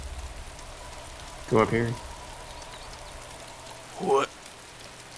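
Steady rain falls in the video game DayZ, a soft continuous hiss running throughout, with two short bursts of talking over it.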